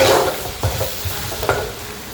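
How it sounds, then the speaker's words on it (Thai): Chicken sizzles and crackles in a hot curry pot with lemongrass and shallots while being stir-fried, with a few scraping knocks of the utensil. "นำไก่ใส่ลงไปค่ะ ปึ๊บใส่ไก่ลงไปค่ะ ใส่ไก่ลงไปคั่วนะคะ"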